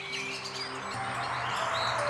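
Long-tailed tits call in Côtes d'Armor beside an expressway and a small railway line. Thin, high chirps are faint and partly masked by steady traffic rumble and hiss.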